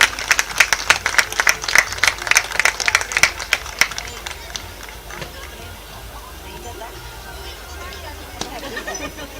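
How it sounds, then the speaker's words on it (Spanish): Crowd applause at the inauguration of Estadio Guaraní for Deportivo Paraguayo, a burst of scattered claps that fades into the open-air background while a voice speaks over it. "fuertes aplausos los que están presentes en este momento"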